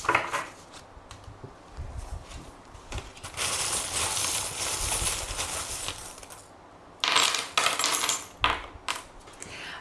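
Small fortune-telling charms are tossed onto a surface in a few separate casts, each a short burst of light clinking and rattling like dropped coins, close by, with quiet pauses between.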